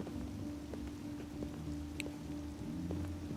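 Steady rain in the video game Detroit: Become Human, a faint, even hiss of falling drops with soft patters and a low ambient hum beneath, continuous and distant.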